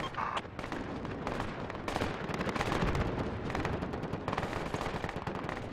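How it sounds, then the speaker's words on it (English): Enemy gunfire from the west in the military video game Project Reality: dense, overlapping bursts of shots and distant heavy fire, sustained throughout with no voices. "We got enemy shots west."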